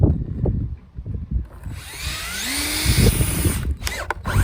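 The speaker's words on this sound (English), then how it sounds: "all of these have got to be drilled" A power drill spins up, whines steadily as it bores through plastic brackets, then winds down amid clattering handling noises close by.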